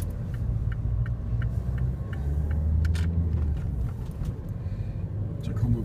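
Road traffic at a busy suburban crossing where two streets meet, a steady low rumble of passing cars with a heavier vehicle swelling through, plus faint ticking clicks throughout.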